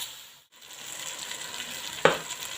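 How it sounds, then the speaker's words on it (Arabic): Meat searing in a pan for a green bean stew, a soft steady sizzle with one brief sharper crackle, close and fairly quiet with no talking. "عاد نشحروا اللحم، عاد نديروا ان شاء الله اللوبيا."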